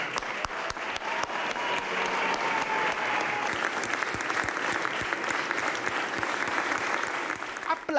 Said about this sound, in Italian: Applausi, momenti intensi per il nuovo sindaco, emozionato